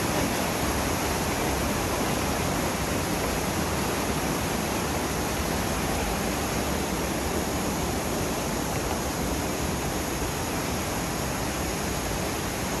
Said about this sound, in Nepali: त्यही मूलको पानी आउँछ होला है।